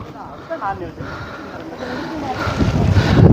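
Wind rushes across the microphone on a hilltop, building steadily louder toward the end, with faint voices in the background.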